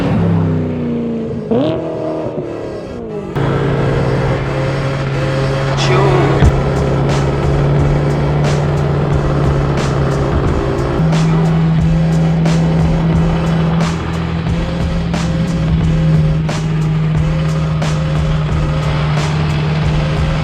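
BMW M3 with a modified exhaust pipe and a seven-speed gearbox, heard from inside the car: the engine drones steadily and loudly, its pitch stepping as gears shift, with sharp crackles and pops from the exhaust and no talk.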